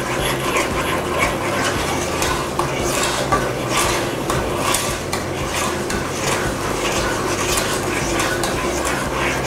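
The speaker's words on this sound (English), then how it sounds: "I'm going to stir it for probably about 30 seconds to a minute" A spoon stirs a Thanksgiving baking mixture in a bowl, making a continuous scraping and swishing with faint clinks against the bowl. It is close and steady throughout, with no speech.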